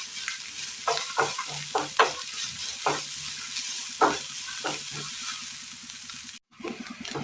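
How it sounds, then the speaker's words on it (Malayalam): Grated carrot and coconut frying in a pan, with a soft sizzle under repeated rhythmic scrapes of a spoon stirring, close and fairly loud, then a brief pause near the end. "തേങ്ങ ഒന്ന് ഫ്രൈ ആയി വരുമ്പോൾ ഇതിലേക്ക് നമുക്ക് ഈ ഗ്രേറ്റ് ചെയ്ത് വെച്ചിരിക്കുന്ന ക്യാരറ്റ് കൂടി ഇട്ട് കൊടുത്ത് നന്നായി ഒന്ന് ഇളക്കി കൊടുക്കാം."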